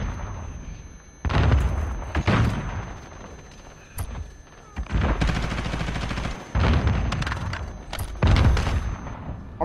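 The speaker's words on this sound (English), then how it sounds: "there's a grenade" A grenade detonates in Modern Warfare multiplayer: heavy booming blasts mixed with bursts of gunfire come in several loud waves, each with a sharp onset and a long rumbling tail.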